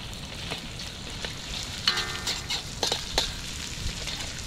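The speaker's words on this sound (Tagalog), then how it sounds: "Gisa na tayo ng ating luya." Ginger sautéing in hot oil, a steady soft sizzle with a few sharper crackles and pops in the middle, close by and alone.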